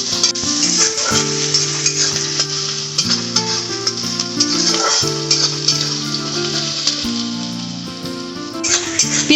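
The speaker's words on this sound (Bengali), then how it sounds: "পেঁয়াজটা একটু ভাজা ভাজা করে নেব" Chopped onions fry in a pan with a loud, continuous sizzle and repeated stirring scrapes, while steady music plays underneath.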